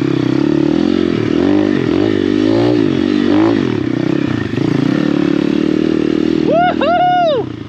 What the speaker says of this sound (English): Jessica shredding her XR